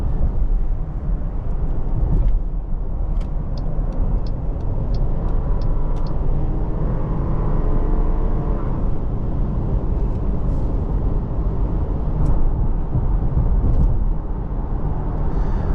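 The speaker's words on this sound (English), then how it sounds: "Obviously, being the Trailhawk, tires are going to be a little bit noisier." Tire road noise from a 2023 Jeep Grand Cherokee Trailhawk 4xe on the move fills the cabin as a steady, close, broadband roar and hum, constant throughout with occasional faint ticks and no talking.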